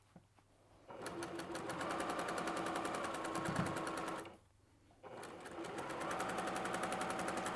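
Sewing machine stitching a quilt seam for a disappearing pinwheel quilt, a fast steady mechanical whir that runs for several seconds, stops briefly, then starts up again, close and loud with no talking.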